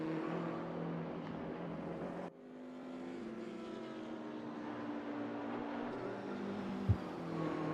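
A BMW M6 GT3 race car engine drones in the RaceRoom racing game, a steady harmonic engine tone that drops abruptly as the throttle lifts, then climbs back into a sustained, moderately loud run.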